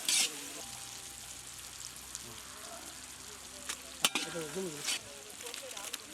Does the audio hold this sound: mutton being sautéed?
yes